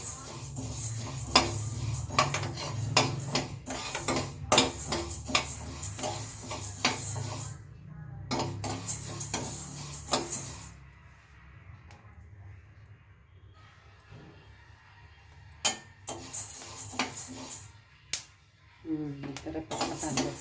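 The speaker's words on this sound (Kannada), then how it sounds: "ಈ ಥರ ಪಟ ಪಟ ಆಗಬೇಕು." Horse gram seeds dry roasting in a pan, crackling in dense bursts of sharp ticks along with spoon scraping and metal clatter. The sound drops to quieter stretches before loud crackling returns near the end.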